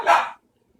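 A single short, loud bark from a dog indoors, close to the listener and followed by silence.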